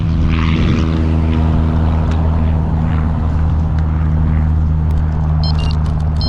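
A propeller aircraft taking off from a nearby airfield, its engine drone loud and steady throughout, rising slightly as it goes, with outdoor wind in the background.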